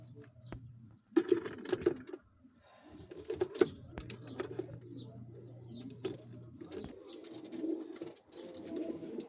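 Pigeons coo in low, repeated bursts amid rustling and occasional wing flutters, fairly close, with no talking.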